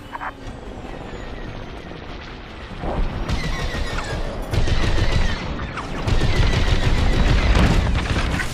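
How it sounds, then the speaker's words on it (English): Dense, continuous weapons fire and blasts in a Star Wars: Squadrons space battle, a rumbling barrage that swells louder in stages and never lets up. "Under fire!"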